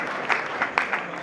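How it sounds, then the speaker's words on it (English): A crowd at a charity fundraiser auction applauds the winning bidder, a brief burst of steady clapping with a few sharper claps standing out. "Round of applause, please."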